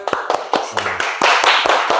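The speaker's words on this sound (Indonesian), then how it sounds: "Oke, kasih tepuk tangan." Scattered hand clapping in a classroom after a group presentation, starting as separate claps and thickening into a brief burst of applause, with a voice murmuring underneath.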